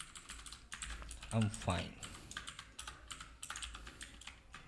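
JavaScript code is typed on a computer keyboard in a steady, close clatter of keystrokes, while someone speaks briefly over the typing.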